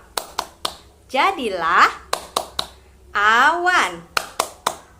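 Kindergarten children clap along to a rain clapping rhyme, crisp sets of sharp claps in a steady rhythm alternating with sung or chanted lines by a voice.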